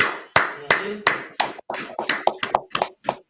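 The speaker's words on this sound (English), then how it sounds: "Clap it up." About a dozen hand claps sound up close, sharp and separate, with the spacing tightening and growing a little uneven as they go on.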